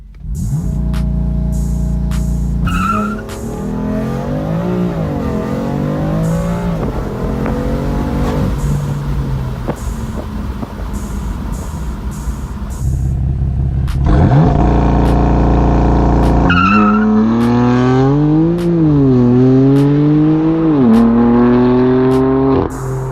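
A BMW M3 engine revs hard and accelerates away under launch control, pitch climbing in sweeps through quick gear changes, loud and close throughout, heard from outside the car.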